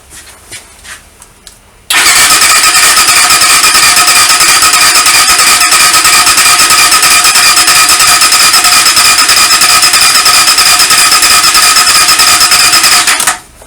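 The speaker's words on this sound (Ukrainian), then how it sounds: "Є підсос. Пробуємо заводити." A Kovi 300 Advance motorcycle engine, which had been slow to start, catches after a quiet start and runs loud and steady at a high, even roar for about twelve seconds before cutting off abruptly.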